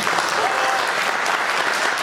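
A wedding hall crowd claps for the couple's parents in dense, steady applause that stays loud and even for a couple of seconds.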